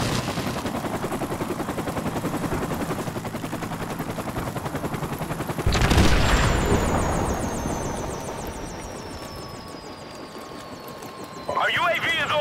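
A friendly helicopter in Call of Duty Modern Warfare Remastered thrums with rotor chop, arriving over loud bursts of gunfire and battlefield noise that fade after a sharp blast.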